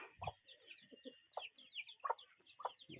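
Several hens cluck in short, scattered bursts, fairly quiet and close, with a steady background hum.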